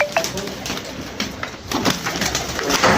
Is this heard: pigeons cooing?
yes